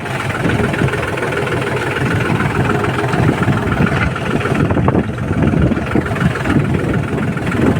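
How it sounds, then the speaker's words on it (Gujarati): A mini tractor engine runs steadily in a farm field, a dense, continuous mechanical drone with rattling texture and no pauses or voices over it. "મિની ટ્રેક્ટર ચાલુ કર્યું"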